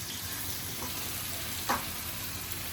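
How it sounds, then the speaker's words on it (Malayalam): Chopped onions sautéing in a pan of oil for a large batch of chicken maqluba after lamb has been fried, giving a steady close sizzle with one brief sharp clink of a utensil partway through. "ഇനി നമ്മൾ കുറച്ച് സബോള വഴറ്റുന്നുണ്ട്"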